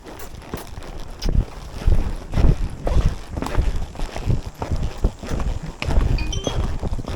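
Horse hooves clop steadily on muddy ground at a walking pace, with wind buffeting the microphone.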